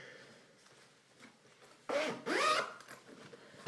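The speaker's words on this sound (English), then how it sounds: "so now you've zipped yourself up" A zipper on a Vera Bradley tote bag is pulled closed in two quick, loud rasping strokes, close up after a quiet stretch of faint rustling.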